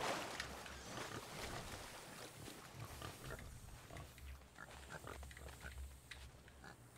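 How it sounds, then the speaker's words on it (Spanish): Pigs grunting and oinking in the pirate video game Sea of Thieves, steady low snorts near the player, mixed with soft water and ship ambience. "Mira ahí, cerdos."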